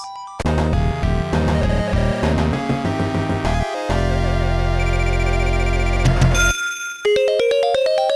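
Sega Genesis Sonic level-complete jingle playing loudly alone, a bright chiming electronic melody with a humming, echoing quality, shifting through several busy segments before a final run of short high notes.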